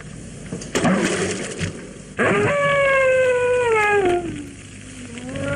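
A dog howls loudly and mournfully, a long wavering cry that slides downward and trails off, following some earlier muffled noise and rustling.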